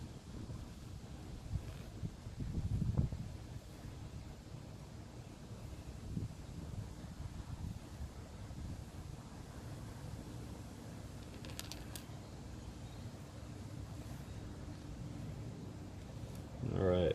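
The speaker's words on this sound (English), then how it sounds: "I just got way too frustrated with that wind and decided to move to the garage" Gusty outdoor wind buffets the microphone in a low, continuous rumble with a few stronger bursts, close and moderately loud, with no voices.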